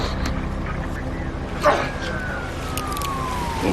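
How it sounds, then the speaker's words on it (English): Police car sirens wail faintly in the distance in an action film scene, one falling tone carried over a dense rumble of background noise with a brief thump midway. "The sound of sirens used to mean my brother officers were on their way to assist me."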